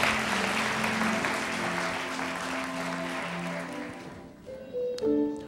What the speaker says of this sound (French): On les applaudit ce matin.